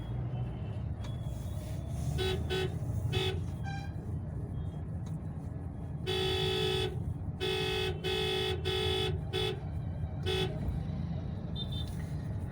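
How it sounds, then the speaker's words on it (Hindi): Heavy traffic rumbles through a crowded main market street in a small Indian town, with cars, trucks and buses passing and a run of short horn toots and longer honks cutting through the constant din. "मेन मार्केट है इसलिए ट्रैफिक बहुत है, चारों तरफ भीड़ ही भीड़ है।"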